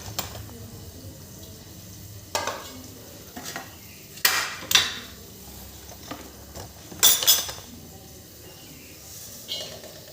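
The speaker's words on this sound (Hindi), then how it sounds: "हाथ से मिक्स करते हैं।" Hands mix a warm parwal stuffing in a bowl, giving soft squelching rubs and several louder, crisp bursts of handling noise against a quiet background, with a faint voice now and then.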